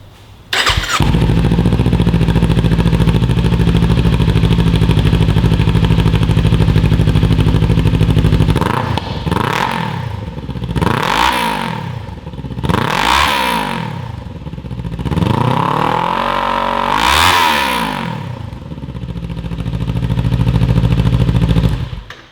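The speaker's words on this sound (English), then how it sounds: "now we're gonna let you hear the exhaust note with the sound insert installed" A Kawasaki Ninja 400 (2018–2023) with a Yoshimura Alpha T slip-on exhaust and sound insert idles loudly and steadily, then blips through four or five sharp revs, each rising and falling, close up and alone.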